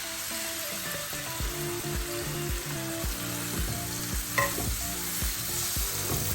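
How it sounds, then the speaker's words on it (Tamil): Tomatoes cook over a low flame in a pan for a bitter gourd and mutton dish, a continuous soft sizzle with repeated rhythmic stirring scrapes, close and without speech. "அடுப்பை ஸ்லோவாக வச்சு தக்காளி நல்லா வேவுற அளவுக்கு வச்சுக்கலாம்"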